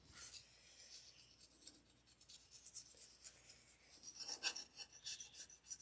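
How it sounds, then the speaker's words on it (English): Razor blade scraping crusty buildup off a Yamaha four-stroke outboard water pump housing, a faint, irregular series of dry rasping scrapes with a few sharper gritty scratches near the end. "You can hear me hitting that crusty buildup in there."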